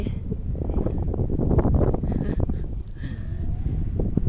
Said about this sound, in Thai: บรรยากาศสวยๆ บนหมู่เกาะสมลอยลมแรงมาก